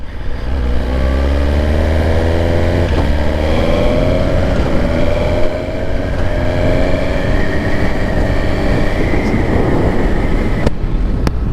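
A brand-new 2025 Suzuki GSX-R1000R motorcycle engine runs steadily and loudly throughout, a sustained close drone with shifting harmonic tones as the revs climb and settle.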